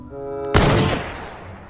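A toy sniper gun fires a single sharp, loud burst that decays over about a second, preceded by a faint electronic tone.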